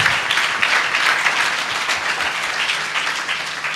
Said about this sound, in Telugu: Let's give God a mighty clap.